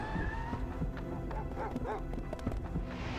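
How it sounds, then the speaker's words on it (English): A cartoon dog barks a few times in the Ace Attorney 4: Apollo Justice video game, the short yaps mixed with steady game music. "Bark, bark, bark, bark."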